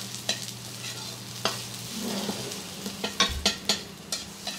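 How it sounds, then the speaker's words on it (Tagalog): Onion and garlic sautéing in a pan for pork paksiw, a soft sizzle under repeated close clinks and scrapes of a spoon stirring against the pan. "Ngayon, yung sibuyas bawang babanhayin."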